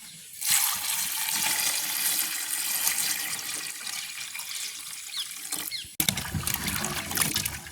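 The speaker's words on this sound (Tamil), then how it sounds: "இப்போ நாங்கள் வட்டி எடுத்த கிழங்குறதா கழுவி எடுப்போம்" Peeled cassava tubers washed by hand in water at a village home, a steady splashing and trickling wash running throughout, briefly cut off near the end then resuming loudly.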